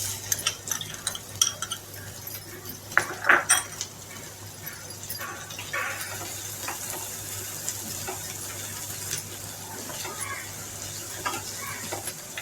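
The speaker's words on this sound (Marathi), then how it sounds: "चांगला परतून घ्यायचा कांदा" Finely chopped onion sautéing in hot oil in a pan, with a continuous close sizzle and a burst of spoon scrapes and clatter early on, then settling into a quieter steady frying hiss with occasional stirring taps.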